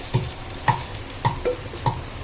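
Red chilli powder frying in a pan for an ash gourd and sweet potato stew, stirred with a spatula: five or so evenly spaced scraping taps over a faint background hiss, close by, no talking.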